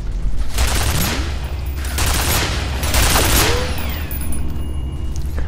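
Turrets in the video game F.E.A.R. fire loud, continuous bursts of automatic gunfire. The rapid shots come in waves with brief lulls between them.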